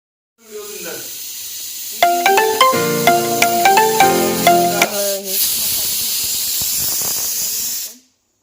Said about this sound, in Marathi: इकडे फोडणी टाकायला घेतली.